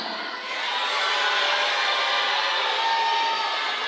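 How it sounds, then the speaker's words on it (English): A crowd at the Miss Botswana 2025 pageant screams and cheers all at once, a loud, continuous wash of mixed voices with no single name standing out. "I need you to scream who you want in the top"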